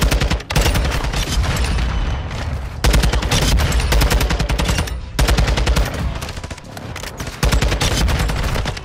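Rapid bursts of Taq 56 rifle fire in MW2 on the Shipment map, loud and close, coming in long sustained volleys separated by short pauses.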